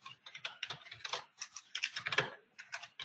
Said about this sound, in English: mind my typing